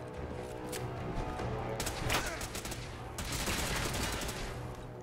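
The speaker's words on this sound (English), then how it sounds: "I shouldn't be shooting bars of soap at these fuckers" A Junk Jet firing bars of soap in Fallout 4 goes off in quick, clattering shots amid a noisy fight, with heavy bursts and crashes around two seconds and again after three.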